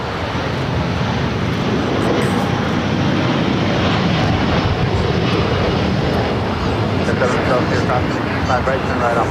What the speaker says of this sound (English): we got the Latam and Dreamliner heading to Brazil, now rolling down at 25 right.